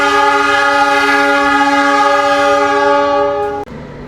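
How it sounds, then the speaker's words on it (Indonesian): Argo Sindoro train departing Cirebon station sounds a loud, sustained multi-tone horn that holds steady for several seconds before cutting off abruptly near the end. "kita baru saja berangkat stasiun Cirebon bersama dengan Argo Sindoro"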